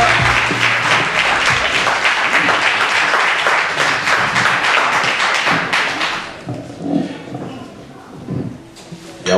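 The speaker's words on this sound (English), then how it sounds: "Clap your hands, press the love." An audience at a poetry night claps loudly and rhythmically for several seconds, then the applause cuts off abruptly, leaving quieter room sounds and scattered voices.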